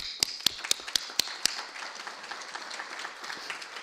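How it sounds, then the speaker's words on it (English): Faculty at a general meeting applauding, opening with six loud, evenly spaced near claps from one person before softer scattered clapping from the room carries on. "I think you need to give yourselves an applause."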